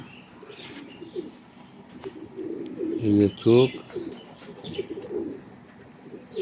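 Pigeons coo softly in brief bursts, one closer, louder run of coos in the middle, while a person talks quietly nearby.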